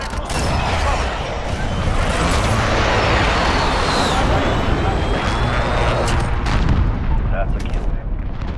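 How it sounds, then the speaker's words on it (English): Cruise missile strike in Modern Warfare's Ground War mode: a dense, continuous roar of explosions and debris with sharp cracks and booms layered throughout, loud and sustained, with game voices faintly mixed in. "Enemy cruise missile. Take cover."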